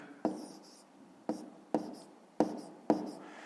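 Writing fractions by hand on paper for a fifth-grade maths exercise: five separate scratchy strokes, each starting with a sharp attack and fading out, close and fairly quiet with no talk.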